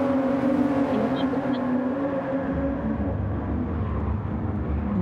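Race car engines from the GR Supra GT Cup racing video game drone continuously at a steady pitch, with a commentator talking over the track noise.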